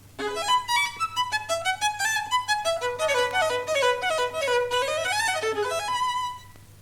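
A skilled violinist plays quick, fluid runs of bright bowed notes that rise and fall in a rapid flowing phrase, solo and fairly quiet.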